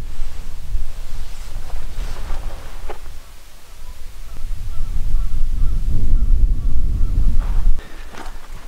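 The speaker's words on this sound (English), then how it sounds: "The wind is whipping up, it's starting to get colder." Wind gusting across the Alberta badlands, buffeting the microphone with a loud low rumble that rises and falls in surges, with faint honk-like sounds in the distance.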